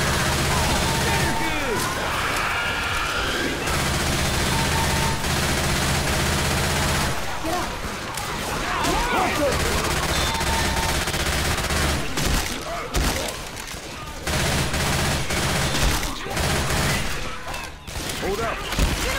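Gunfire in the zombie shooter Left 4 Dead rattles nearly nonstop for about twenty seconds, dense automatic bursts and heavier booms packed close together, loud and near, with only brief gaps of quieter moments.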